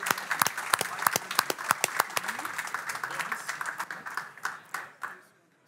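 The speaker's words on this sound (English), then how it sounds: "once again, an applause" Audience applause for a winning team at a sports innovation conference session, steady clapping from a crowd that thins and fades out over several seconds.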